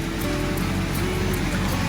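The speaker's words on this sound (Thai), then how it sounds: "ฝนตกแบบแรงนะครับผม" Heavy rain pours steadily in a dense, unbroken hiss at a house construction site where piles are being driven, with a faint low hum underneath.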